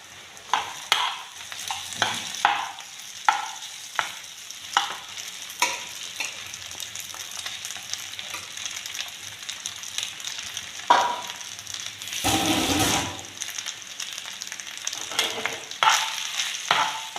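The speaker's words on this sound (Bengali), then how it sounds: "সবজির সঙ্গে সব ভাত মিশিয়ে নেব" Cooked rice stirred together with vegetables in a frying pan, a spatula scraping and tapping the pan in a steady rhythm over a soft sizzle, close by, with no talking.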